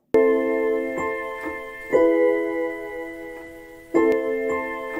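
A short instrumental music passage with sustained, bright tonal notes struck in three distinct attacks about two seconds apart, clear and fairly quiet.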